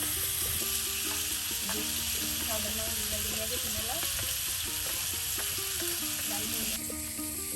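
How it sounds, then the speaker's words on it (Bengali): Pangas fish frying in its own rendered oil in a village kitchen gives a steady, loud sizzle and hiss throughout, with voices talking over it. "এই যে দেখুন মাছের তেলেই কিন্তু মানিক ভাই কত সুন্দর করে মাছ ভাজি করে নিচ্ছে"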